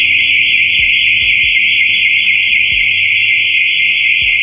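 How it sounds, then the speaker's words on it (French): A loud, steady electronic intruder alarm, set off during urban exploration, blares continuously without pause, with faint low thumps underneath. "vous voyez qu'on déclenche 5 alarmes"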